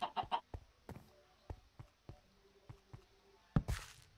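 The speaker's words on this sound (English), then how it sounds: "Hi, chicken." Chickens clucking in the video game Minecraft, a series of short separate clucks spread over a few seconds at moderate level, ending with a louder burst, with no talk.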